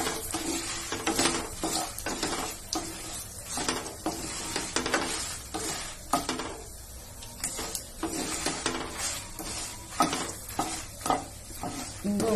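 Mustard seeds frying in hot oil for a tempering give a dense, continuous crackling sizzle, close and loud, with bursts of popping and occasional scraping of a utensil against the pan throughout.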